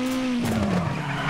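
Rally car tyres skidding on a handbrake entry in the WRC 9 racing game, a loud continuous screech with a falling engine tone, close and alone throughout.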